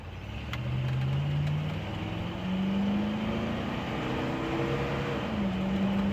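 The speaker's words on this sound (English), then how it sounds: "So this is going to be a full throttle." A 1970 Jeep Wagonmaster accelerates at full throttle. The engine drone climbs steadily in pitch, drops at each gear shift, then climbs again, loud and close throughout, with no talking.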